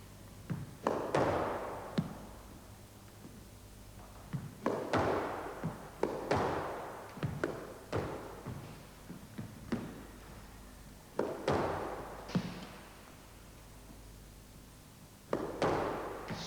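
A squash ball struck with a racket on an indoor court: sharp hollow thuds with echoing decay, about a dozen spaced irregularly, each ringing briefly in the room.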